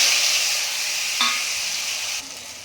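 Ginger, green chillies, onions and tomatoes fry in a pan for masala rice, giving a loud, steady sizzle with a brief clink of stirring partway through and no talk.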